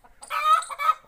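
Chickens kept for eggs on a small village poultry farm, a brief nearby hen cluck and squawk, clear and alone.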